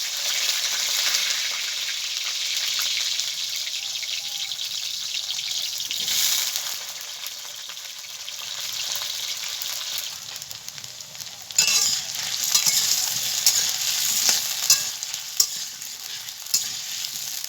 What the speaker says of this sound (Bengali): তেল গরম হয়ে গেছে, প্রথমে আমি আলুটাকে ভেজে নেব